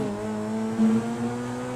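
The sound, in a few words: car in GTA V shifting gears without double clutch, video game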